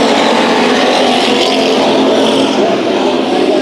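American stock race cars roar around the Bakersfield Speedway dirt oval, a loud, dense, continuous engine blare from a close pack with no break across the stretch.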